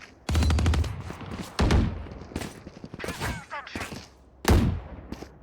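Rapid gunfire in a tactical shooter video game comes in several loud, spaced bursts with sharp clattering shots and thumps between them.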